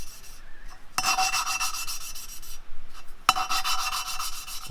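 An engine valve is twisted against its seat with gritty cutting compound, producing a harsh, close rasping grind in two sustained bursts separated by a brief pause.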